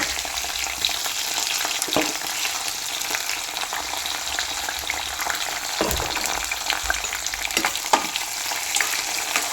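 Rambutan fruit frying with ginger and garlic in a pan for pickle, a steady close sizzle running throughout with occasional sharper crackles and spoon scrapes, no talking.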